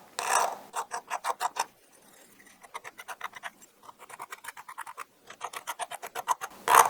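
A file or deburring tool rasps along the edge of a machined prototype watch case in quick bursts of rapid scraping strokes, close and alone, pausing between passes.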